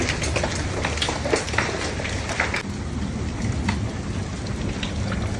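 Heavy hail and rain pound down during a hailstorm in Al Ain, UAE, a dense, continuous roar of impacts with sharper cracks scattered through, loud and close, with no voices.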